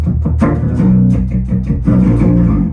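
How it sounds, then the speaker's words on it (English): Layered guitar chords through a polyphonic octave-down effect, with a thick, deep undertone, strummed in a loose rhythm and played steadily throughout with no talking. "you can also play chords with it, and it tracks pretty well"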